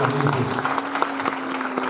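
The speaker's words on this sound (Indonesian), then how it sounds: "Yang setuju boleh berikan tepuk tangan" Congregation applause during a church worship service, a steady patter of many hands clapping with a faint sustained tone underneath.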